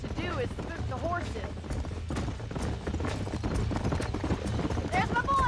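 Horses' hooves clip-clopping in the Red Dead Redemption video game, a steady plodding rhythm of several animals close by, with a voice speaking over it.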